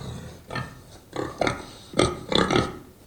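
A Libratone ZIPP 2 smart speaker plays pig oinking: five or six distinct snorting grunts in quick bursts, fairly close and clear, with no other voices.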